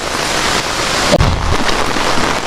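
Monsoon rain falls outdoors during flooding, a steady broadband wash of rainfall close to the microphone with a brief thump around the middle, no voices.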